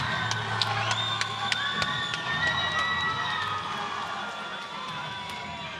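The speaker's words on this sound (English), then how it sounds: "Huge crowd letting him know that he is appreciated." A crowd cheers and shouts for a fighter at an MMA title event, with a sustained arena roar, whistles and sharp calls, fading slightly toward the end.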